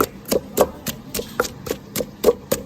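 Rhythmic, sharp thuds of a pestle pounding chilies and chicken in a mortar, about a dozen quick strikes at an even pace, close and clear.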